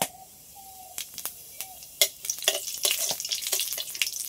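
Cumin seeds sizzling in hot mustard oil in a wok, starting with faint crackles and building into a steady close frying hiss with sharp pops.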